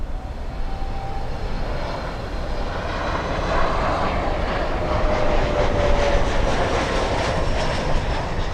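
Lufthansa LH462 airliner arriving at Miami International Airport, a loud sustained engine roar that builds and sweeps past with a whining tone and rising throb, heard alone without talk.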